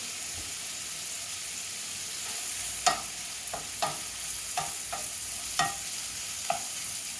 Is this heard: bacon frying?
yes